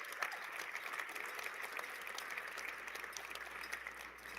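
A large audience at a FIRST robotics Midwest Regional competition claps in a sustained, dense burst of applause that holds steady throughout, with no talk over it.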